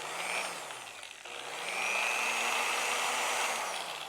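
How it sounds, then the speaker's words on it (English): An electric sander buffer running at a workshop, a steady whirring motor whine that briefly dips and then spins back up, continuing alone and fairly quiet. "Now let's fire this up so you can hear how loud it is or how loud it isn't."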